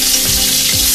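Onion and grated ginger fry in a pan for an aloo parval sabzi, giving a steady, loud sizzle with a couple of soft scraping stirs underneath and no voices.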